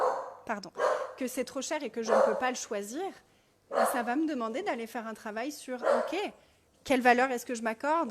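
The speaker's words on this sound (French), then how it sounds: "désolée pour les aboiements" A dog barks in short bursts beneath continuous French speech from a woman, the barks partly masked by her talking.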